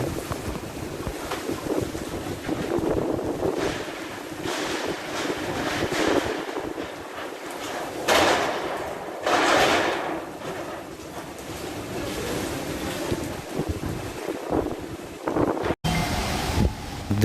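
Strong gusting wind from Cyclone Yaas making landfall on the Odisha coast near Balasore and Digha, roaring and buffeting the microphone continuously over rough crashing sea waves, loud and unbroken throughout.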